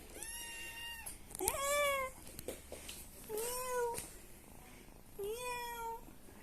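A small kitten meows four times in short, rising cries spaced about a second apart, close and fairly quiet, against a hushed indoor background.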